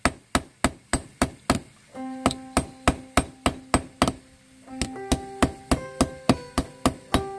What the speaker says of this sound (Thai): เสร็จเรียบร้อยแล้วเราทำการเอาค้อนทุบเลยครับ